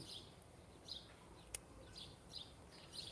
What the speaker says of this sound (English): These birds is coming to hear and listen to me, man.